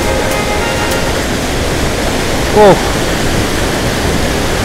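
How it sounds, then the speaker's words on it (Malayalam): Sulthana waterfall in Kerala roars as a loud, steady wash of falling water that fills the whole scene, with one brief exclamation from a person nearby. "യെസ്, ഇവിടെയാണ് നമ്മളെ ചാട്ടം, വെള്ളച്ചാട്ടം"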